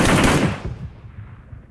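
Video game gunfire in a Midtstein mission, a dense burst of rapid automatic shots loud at the start, then trailing off into fading echoes and scattered quieter reports.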